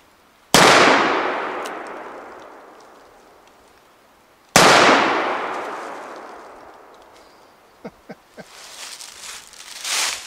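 An 1860 Army revolver fitted with a cartridge conversion cylinder fires two loud, sharp shots about four seconds apart, each ringing off in a long echo. Several faint clicks and handling noises follow at the end.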